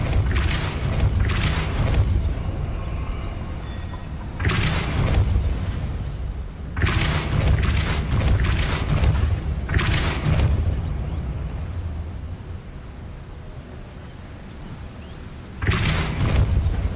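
A Depulso spell blast in the Hogwarts Legacy video game: heavy, booming bursts repeat at intervals over a steady rumbling background, loud and close, with no talking.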